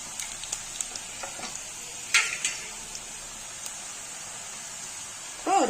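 Diamond-cut snack dough for a Diwali treat drops into hot oil, setting off a soft continuous hiss with a few splashes and a louder burst of bubbling near the end.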